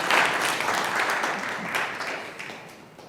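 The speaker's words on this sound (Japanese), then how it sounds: "皆さん大きな拍手で歓迎してください。" A church congregation claps warmly in welcome, the applause strongest at the start and gradually fading away.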